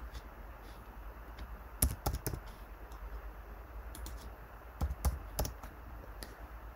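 Typing on a computer keyboard to enter a name while registering for Telegram, scattered bursts of quick key clicks with pauses between, fairly quiet and close over a faint room hum.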